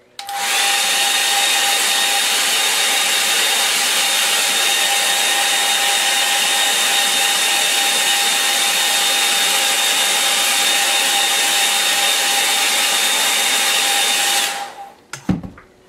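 Hair dryer blowing steadily for about fourteen seconds, a loud, close, even whine and rush of air that switches on abruptly and cuts off near the end, with no talk.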